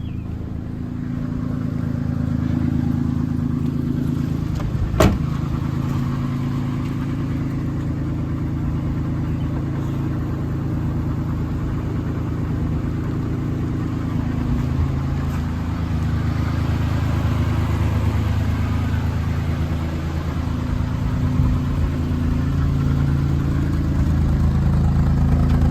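A 1972 BMW Bavaria idles steadily after a cold start, its low, even engine rumble running close and loud for the whole stretch, with one brief sharp click partway through.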